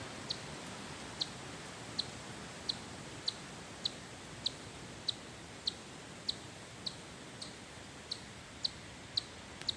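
Short, high bird chirps repeat at a steady pace, roughly every half second, at Horicon Marsh in October, over a soft hiss of ambient noise with no voices.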